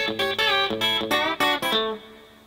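A clean electric guitar plays a quick country rock lick in A with hybrid picking, a pick and fingers plucking crisp, snappy notes in a short rhythmic run that rings out at the end, played alone.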